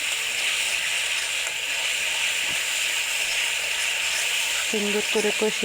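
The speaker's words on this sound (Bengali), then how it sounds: "এখন মশলা সব একসাথে কষিয়ে নেব" Spices frying together with lightly fried shing fish in a pan, a loud continuous hiss and sizzle close up, with a brief voice entering near the end.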